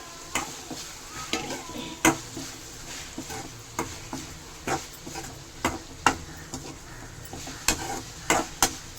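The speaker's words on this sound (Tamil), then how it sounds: "தேங்காய் கொஞ்சம் நல்லா வதங்கி எல்லாமே நல்லா வதங்கி சூடு வரணும்" Coconut, onion and tomato sauté in a pan for fish curry, with a low sizzle under regular clinking and scraping strokes of a spoon against metal, close and busy.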